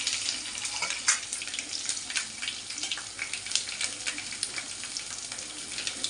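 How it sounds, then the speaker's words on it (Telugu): Garlic cloves fry in a pan of tempering for cucumber dal, giving a continuous close sizzle with scattered sharp pops and spits, heard alone at moderate loudness. "కొంచెం వేసేసి తాలింపు ఫ్రై అవుతుంది."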